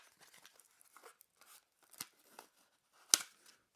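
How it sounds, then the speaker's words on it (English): A clear plastic tray slides out of SanDisk High Endurance microSDXC card packaging, making faint, close, crinkly scraping and tearing sounds in short bursts, with one sharper crackle near the end. "let's slide that clear plastic tray out"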